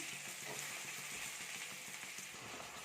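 Curry leaves, coriander and mint sautéing in oil in a pan for parotta salna, a steady close sizzle with light stirring scrapes throughout and no talking.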